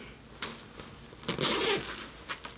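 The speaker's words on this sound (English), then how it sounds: "when you open it, see this front pocket right here? It zips down." A zipper on the front pocket of a baby's diaper bag is pulled open in a few quick, close rasping strokes, the longest drawn out in the middle, with no talking.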